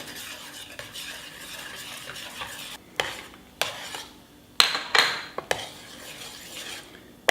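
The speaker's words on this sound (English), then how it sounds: "I put the cinnamon, nutmeg and cloves together in this small bowl, which I'll now stir into the mixture" A spoon stirring cinnamon, nutmeg and cloves into a honey butter mixture for a spiced honey cake, with close scraping and several sharp clinks against the bowl, no talking.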